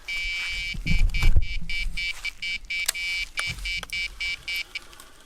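Electronic bite alarm at a carp fishery sounding for a bream bite, a steady run of high, piercing beeps, fairly loud and close, over outdoor background noise with a brief rustle of handling early on.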